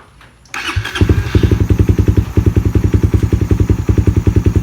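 A Suzuki Raider 150 FI fuel-injected motorcycle engine cranks briefly, catches and settles into a loud, steady, close idle with an even pulsing rhythm, with no voices over it.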